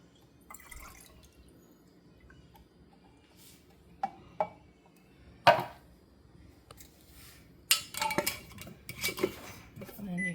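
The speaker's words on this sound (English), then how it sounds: "Give it a little stir to get the sugar" Spoon stirring sugar into cooled water for water kefir, a few sharp clinks against the container amid soft liquid swishing and dripping, moderately close with no talk.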